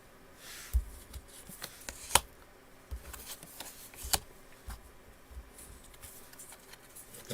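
A deck of playing cards is shuffled at close range during a game, with soft riffling patter and several crisp snaps and flicks spread through the stretch.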